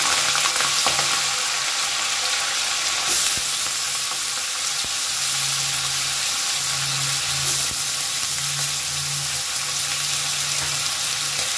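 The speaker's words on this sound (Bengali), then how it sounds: "আলু দিয়ে খুব সুন্দর করে এবার আমি ভেজে নেব" Thinly cut potatoes fry in hot oil alongside peanuts, giving a close, steady crackling sizzle with a few utensil knocks and stirring sounds and no speech.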